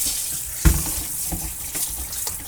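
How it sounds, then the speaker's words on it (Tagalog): A tap runs steadily into a sink while fish is washed to remove its fishy smell, a close, continuous gush of water with a brief thump of handling partway through and no talk. "Hinuhugasan ko po at nang tanggal ang lansa."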